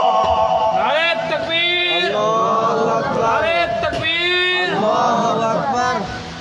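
A crowd at a religious gathering shouts its response to a chanted slogan in loud, unison bursts that come about three times. Many voices rise and fall together, close and forceful.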